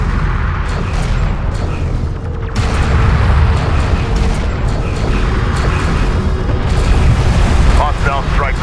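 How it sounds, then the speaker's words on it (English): Enemy railgun fire and explosions in the Homeworld: Deserts of Kharak desert strategy game, a continuous loud battle din of booms and mechanical rumble with a heavy blast partway through, with a radio-style voice speaking over it. "Enemy railgun firing on friendly."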